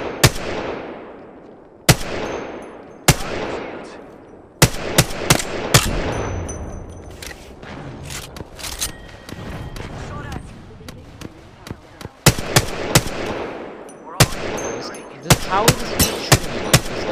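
Gunfire in the video game Apex Legends: sharp repeated shots in bursts, some rapid automatic strings, with decaying echoes between them and players talking over the action.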